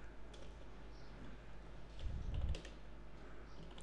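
A short mail reply is typed on a computer keyboard: faint, quick key taps in a quiet room, with a slightly heavier cluster of presses partway through.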